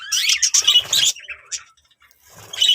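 Budgerigars in a breeding cage, close bright chirps and warbling in short bursts with a brief quiet gap.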